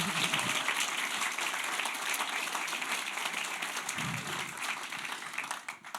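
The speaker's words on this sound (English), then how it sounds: "one more applause" A crowd at a Bergen art gallery festival exhibition talk applauds steadily in a continuous wash of claps that thins slightly at the end, fairly soft and heard from a distance.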